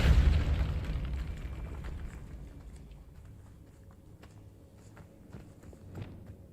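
A Depulso spell fires in Hogwarts Legacy, opening with a loud, deep burst that rumbles and fades over a few seconds, followed by faint scattered clicks and thuds.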